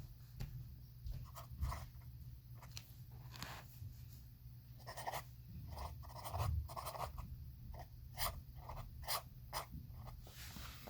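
A fountain pen nib scratches across paper in short, faint strokes with irregular pauses, recorded close and quiet.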